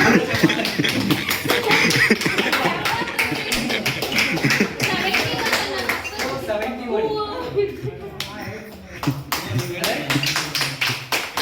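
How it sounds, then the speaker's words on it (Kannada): An audience at an Independence Day program with games and prizes claps loudly at length, with people talking over the applause and scattered taps and shuffling. "ಒಂದ್ಸರಿ ಜೋರ ಚಪ್ಪಾಳೆ ಜೊತೆಗೆ"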